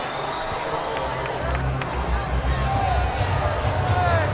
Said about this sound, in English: This crowd noise reminds me of a collegiate atmosphere.